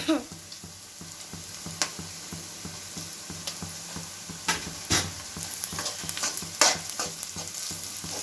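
Browned onions with a spoonful of turmeric are stirred in a pan for egg pulusu, a rhythmic series of spatula scrapes and taps over a steady close sizzle, with no speech.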